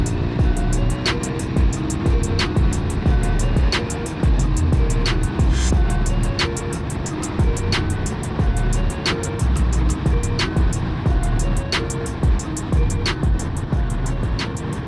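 A Cagiva Raptor motorcycle engine under way while riding, a steady, loud drone with a continuous low rumble and engine hum, punctuated by regular ticking clicks throughout, heard up close.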